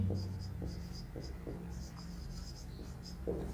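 A teacher writes on a board during an electronics lesson on fiber optics, the chalk or marker giving soft intermittent scratches and taps under a quiet room hum, with faint speech nearby.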